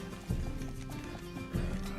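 A horse galloping in the video game Red Dead Redemption 2, two heavy rhythmic bursts of hoofbeats close up over a steady rumbling background.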